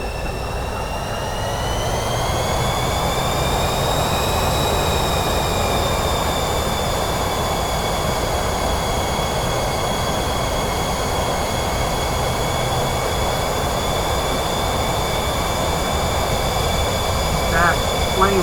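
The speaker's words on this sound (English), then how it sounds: "That plane went right there." A jet airplane passes nearby, heard as a loud sustained roar with rising and falling whine tones that hold steady across the whole stretch, continuous and close.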